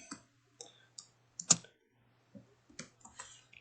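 Computer keyboard keys pressed one at a time, a sparse series of close, crisp clicks with a louder tap near the middle, over a faint steady hum.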